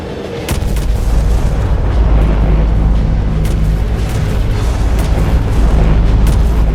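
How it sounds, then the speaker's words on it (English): Ion Strike airstrike explosions in a video game, a continuous loud rumbling barrage of deep booms with sharper blasts scattered through it, close and heavy. "Airstrikes again. Or I guess in the game it's known as Ion Strikes."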